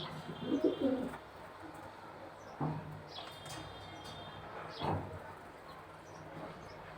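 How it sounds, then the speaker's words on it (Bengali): A male racing pigeon gives a few soft, low coos, spaced apart and fairly faint against quiet background noise. "খুবই ভালো মানের একটি নর কবুতর"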